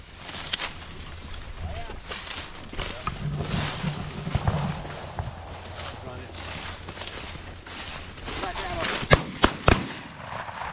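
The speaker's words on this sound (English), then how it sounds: "Nice shooting." Shotgun blasts during a pheasant hunt at a Michigan game ranch, a few sharp loud cracks near the end, with people talking and outdoor rustle underneath.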